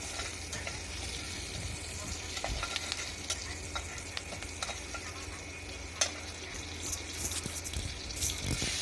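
Spices and green chilies fry in hot oil with a steady close sizzle, broken by scattered clicks and scrapes of stirring, and no voices over it.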